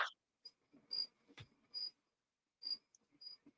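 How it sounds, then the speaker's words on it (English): Crickets chirp in the background: short, high, thin pulses in irregular bursts, faint and distant against otherwise quiet surroundings. "I'm hearing like crickets or something."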